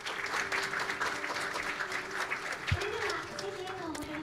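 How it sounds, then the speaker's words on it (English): Audience applause for award recipients at a children's peace summit, a steady wash of clapping from a large hall with voices murmuring underneath. "Please give them a warm round of applause once again"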